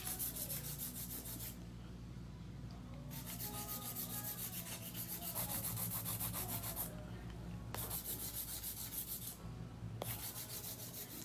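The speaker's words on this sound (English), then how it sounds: "So that's another reason why I like hand filing." A nail file rubs back and forth over a gel nail in steady strokes through a pink and white ombre nail set. The rasping is continuous and close, with a few brief breaks and no speech.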